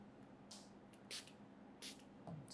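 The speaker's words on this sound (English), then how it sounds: "spraying some water." Water is spritzed onto a clay relief sculpture in about four short, quiet hissing bursts from a spray bottle, spaced unevenly in an otherwise hushed room.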